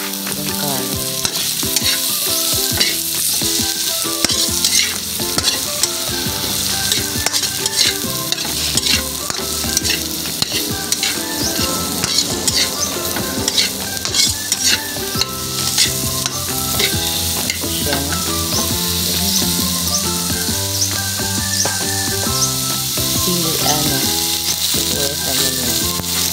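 Carrots, onion and chili frying in a pan while being stirred, a strong continuous sizzle with scraping stir sounds, with background music playing underneath throughout.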